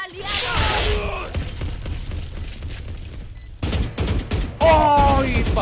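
Explosions and bursts of gunfire from the video game GTA San Andreas: heavy booms and rapid shots, with a lull in the middle and a louder blast near the end, mixed with voices and shouting.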